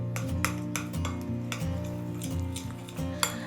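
Soya chaap marinade with food colour is stirred in a bowl, giving repeated wet scraping and clinking strokes of a spoon against the bowl over a low background music bed, with no talking.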